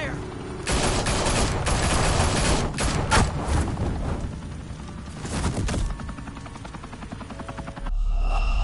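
Gunfire breaks out in a Batman Telltale Series game scene, with loud, dense bursts of shots layered over a whirring helicopter and booms, continuing for several seconds before cutting off abruptly.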